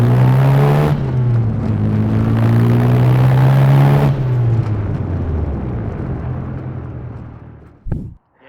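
A Mazda RX-7 Bathurst R sports car with a rotary engine revs loudly close by, holding a high buzzing pitch before dropping and fading away, then ending in a short sharp noise.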